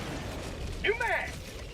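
A weapon magazine reload in the video game Helldivers 2, a single quick mechanical clack and metallic slide heard faintly against a low background rumble.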